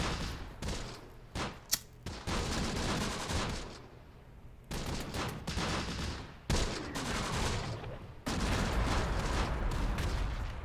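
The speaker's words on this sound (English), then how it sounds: "So let's just follow it up with some more tank fire" Tank cannon fire and artillery in the World War II strategy game Close Combat, a series of loud bursts and booming volleys that come in clustered waves with brief quieter gaps between them.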